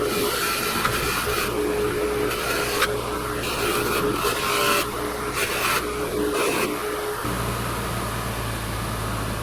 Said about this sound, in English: grinding wheel out here.